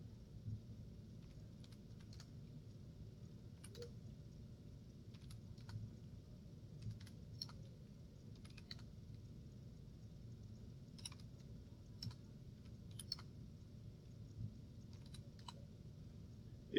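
Quiet bursts of keyboard tapping come in short irregular runs over a low steady hum, close and soft.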